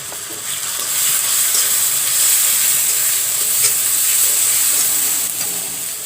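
Ginger and garlic frying with turmeric in oil for a prawn curry, a loud, steady close sizzle and hiss with occasional stirring clicks, no voices.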